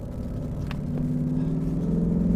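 Ford Mustang S550 fitted with a Ford Performance track handling pack pulling away, a steady low engine rumble that builds gradually in loudness as the car moves off, close and continuous with no talking.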